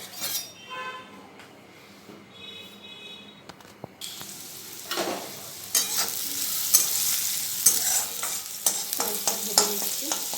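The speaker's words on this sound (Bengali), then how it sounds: "আর কড়াইতে একটা শুকনো লঙ্কা দিয়ে দেবো" Onion and dried chilli fry in a wok: a soft clatter gives way, after about four seconds, to a bright, steady sizzle broken by repeated stirring scrapes and light clinks.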